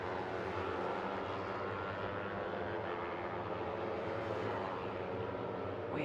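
Yamaha R3 250cc race motorcycles running as a pair on a hot lap, a continuous loud engine drone sweeping past at close range with no talk.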